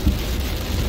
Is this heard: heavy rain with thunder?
yes